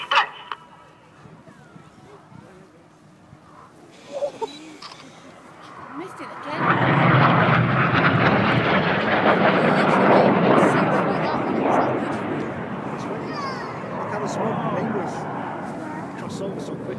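A roaring rush of display-team jet aircraft, the Synchro pair rejoining for another vortex, swells loud overhead and stays as a broad, sustained roar, with a commentator talking over the public address.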